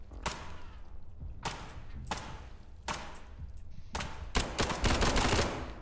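Gunfire in the SCP 5K video game: several sharp, loud shots spaced a second or so apart, then a rapid cluster of bursts near the end, with no talk.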